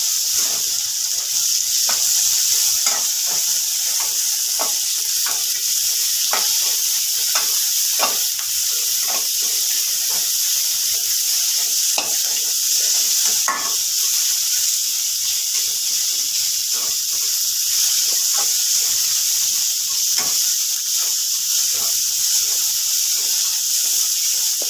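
Chopped onions and four green chilies frying in a pan for a quick chicken gravy, giving a continuous soft hiss and sizzle with scattered light pops and crackles throughout.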